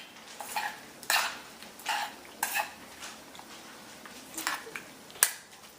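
A balsamic vinegar topping is mixed in a bowl, producing a series of light, irregular clinks and scrapes of utensil against the bowl, close and fairly quiet, without speech.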